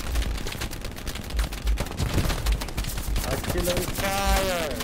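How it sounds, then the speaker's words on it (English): An MG42 machine gun firing in the Hell Let Loose WWII game, heard as dense, rapid bursts of loud gunfire amid other battle noise, with a whistling sweep near the end. "there's an MG42 at this moment shooting at the window"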